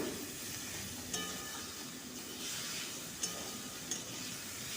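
Poppy seed paste fries in a pan, a soft, steady sizzle and hiss with a few light stirring clacks, quiet and close.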